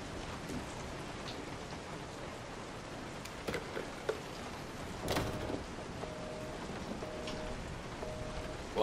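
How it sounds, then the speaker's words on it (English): Steady rain falling in the survival horror game Resident Evil VII, a constant hiss of drops with a few faint thuds and creaks over it, no voices. "And of course, it's gotta be raining out."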